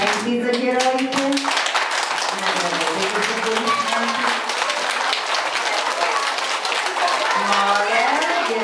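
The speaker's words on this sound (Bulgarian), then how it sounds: "Аплодисменти за героите." Applause for the performers at a kindergarten Baba Marta celebration, steady clapping from the audience with children's voices and chatter mixed in throughout.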